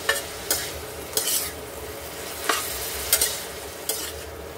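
Meat with a little lemon juice and greens frying in a pan, a steady close sizzle broken by a handful of sharp scraping stirs at irregular intervals, with no voices.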